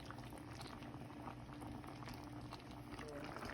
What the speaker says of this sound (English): the coconut milk with the vegetables simmering